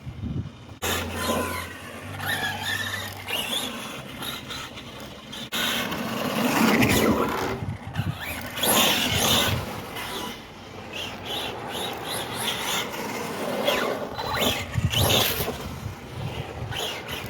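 A Kyosho Mad Van radio-controlled car runs its gears in a bench test, giving a close, fluctuating mechanical whir and grind that rises and falls throughout, with no talking.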